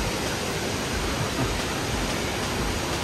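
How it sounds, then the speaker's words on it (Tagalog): Steady, dense roar of Daday Falls in Alamada, Cotabato, a broadband rushing wash of falling water heard up close, loud and unbroken, with no voices. "Daday Falls."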